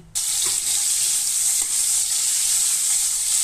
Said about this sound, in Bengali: এবার তেলের মধ্যে আলুগুলো দিয়ে দিচ্ছি